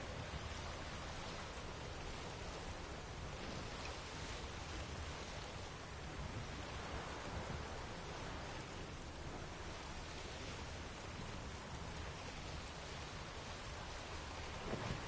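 Steady heavy rain from a thunderstorm in the video game The Witcher hisses without a break, a dense wash of noise with low rumbles of thunder underneath, quiet and distant overall.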